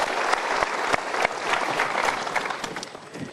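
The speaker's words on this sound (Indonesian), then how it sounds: "Kita berikan tepuk tangan." A studio audience claps together in a dense, sustained burst of applause with distinct sharp claps standing out, holding steady before tapering slightly toward the end.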